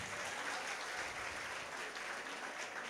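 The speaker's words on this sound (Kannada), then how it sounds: "ಚಪ್ಪಾಳೆ ಇಲ್ವಾ ನನಗೆ?" Audience applause at a college musical concert, steady continuous clapping from a crowd for about three seconds.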